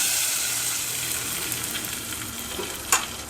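Sizzling mustard seed tempering being poured into a chickpea curry, a steady hiss of hot oil throughout with a brief sharper burst near the end, no talk.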